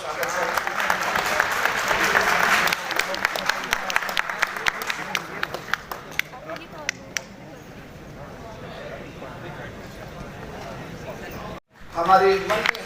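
Loud applause fills a university hall in Lucknow as the audience welcomes the Uttar Pradesh deputy chief minister, dense clapping for about six seconds that thins into scattered claps, with an announcer's voice over the crowd noise near the end.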